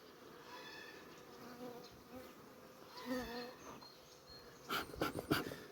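Steady honeybee buzzing fills the air, with several bees droning close by at an open hive frame and a few louder rustling bursts toward the end.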